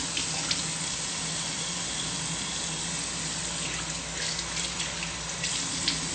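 A bathroom tap runs steadily into a sink while someone washes their face, producing a constant close splashing hiss with no break and no talking.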